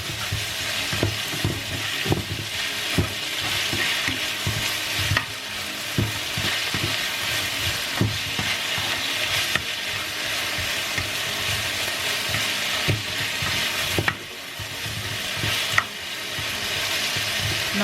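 Jamaican saltfish sautéing in a hot pan, a steady loud sizzle and crackle that runs without a break, with occasional stirring scrapes and small knocks.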